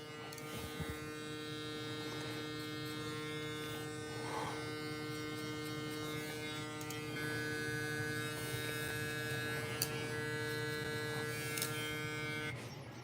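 Electric hair clippers buzz steadily and close while a barber closes an open taper on a fade, with a constant hum throughout and no talk.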